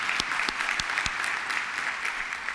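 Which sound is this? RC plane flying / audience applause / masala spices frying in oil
audience applause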